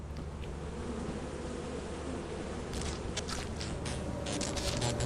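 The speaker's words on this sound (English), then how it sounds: "I do want to get those bees before anything else shows up." Buzzing bees in the video game Lethal Company, a steady dense insect drone running throughout at moderate level, with some scraping, footstep-like noises joining in the second half.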